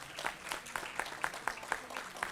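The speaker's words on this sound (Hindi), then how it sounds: "आज ज़ोरदार तालियां उनके लिए" An audience at the Oho Umangotsav 2022 radio event claps in unison, a rhythmic, evenly spaced beat of about four claps per second from a moderately distant crowd.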